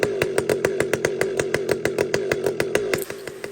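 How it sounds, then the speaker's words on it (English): Husqvarna 592xp chainsaw warming up, its engine revving in a steady pulsing rhythm of about five beats a second, close and loud, then easing off briefly near the end. "So friends, I warm up my saws"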